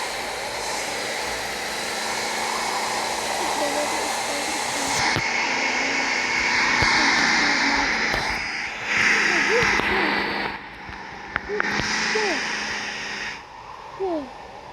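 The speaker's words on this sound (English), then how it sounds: "The wind is so loud." Loud, steady roar of tornado wind in a video game, rising and falling over the clip with brief drops, while people talk under it.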